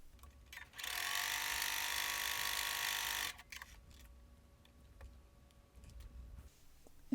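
Sewing machine stitching a quilt block: one steady, loud whirring run of about two and a half seconds, then quiet handling noises with no voices.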